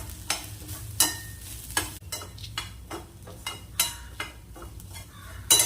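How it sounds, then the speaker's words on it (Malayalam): Spices sizzle gently in oil in a pan, browning for erissery, while a utensil scrapes and stirs in repeated strokes, close by and without talking. "അപ്പോൾ ഇത് വറുത്ത് വരട്ടെ നല്ല ബ്രൗൺ കളർ ആവണം കരിയരുത്"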